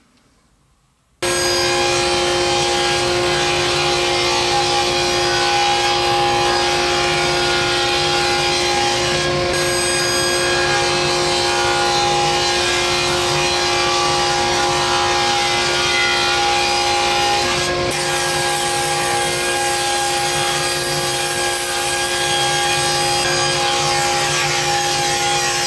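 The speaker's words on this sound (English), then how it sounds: "it's just a matter of setting up the ripping blade, making a couple passes, and we'll get that rabbet done" Saw fitted with a ripping blade cuts a rabbet into a wooden frame, a loud, steady whine with a constant tone starting after a short silence and running unbroken for over twenty seconds.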